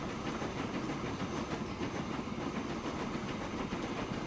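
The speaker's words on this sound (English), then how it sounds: "The train was, I think, certified for 100." A train running in the Transport Fever 2 game, a steady dense rumble with faint repetitive clicking of wheels on rail joints, continuous and fairly close throughout, no talking.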